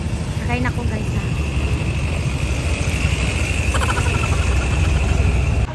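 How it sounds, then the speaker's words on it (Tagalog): Motorcycle engine running steadily up close, a constant loud drone with talking over it. "O dala guys, nakasakay na kong motor"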